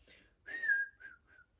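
A person whistles a few notes of a tune, a short falling phrase followed by two brief softer notes, close and clear.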